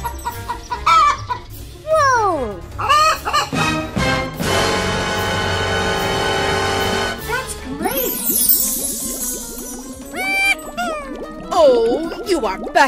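Cartoon chicken clucking and a rooster crowing in a children's animal video, mixed with busy music and sound effects, with the calls rising and repeating loudly across the clip.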